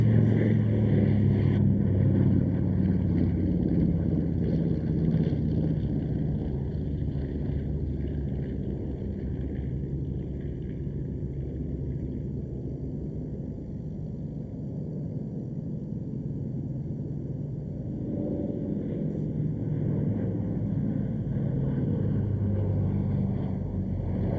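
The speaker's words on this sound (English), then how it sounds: "Leading them in, the Douglas DC-6B, and it's followed by the North American B-25J Mitchell." A Douglas DC-6B and a North American B-25J Mitchell, multi-engined piston aircraft at the Duxford airshow, pass with a steady low droning rumble mixed with wind noise, easing slightly midway before swelling again.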